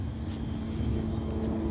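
A passing airplane's engine drones as a steady, low rumbling hum, fairly faint and distant, with no other sounds.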